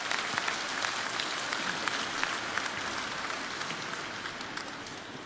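An audience at an Advent concert applauds a guest singer, with dense, steady clapping from a full hall that continues without a break and tapers slightly at the end.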